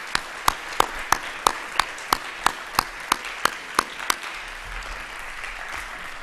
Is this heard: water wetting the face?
no